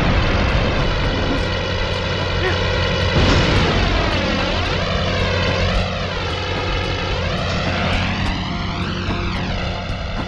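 Out-of-control plane engine roars steadily in Spider-Man 2: Enter Electro on PS1, a loud continuous propeller drone with wavering, rising and falling pitch sweeps throughout, no voices.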